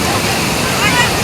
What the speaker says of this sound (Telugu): కొండల నుంచి అక్కడ నుండి వాటర్ వస్తున్నాయి